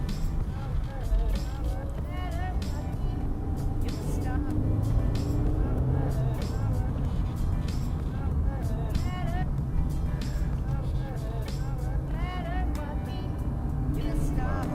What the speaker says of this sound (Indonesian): Terus suara mesinnya itu 4 silindernya tuh kalau misalkan digeber kayak 4000 sampai 4500, menurut gue suaranya masih enak ya